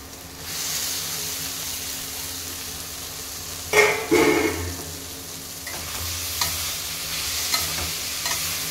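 Mushrooms and potatoes stirred into sizzling masala in a pan for a mushroom curry, a steady frying hiss with a few close scraping stirs clustered in the middle and scattered later clatters.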